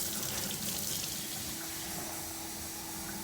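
Warm water running steadily into a lab beaker from a tap, a continuous hiss of flowing water filling the vessel for the whole stretch, close and fairly quiet with no talking.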